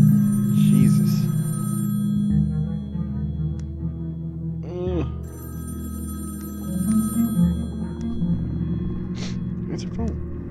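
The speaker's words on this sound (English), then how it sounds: "It's a phone." A telephone rings repeatedly in the horror adventure game Sally Face, steady bell-like trills over a low rumbling ambient drone, with someone talking over it.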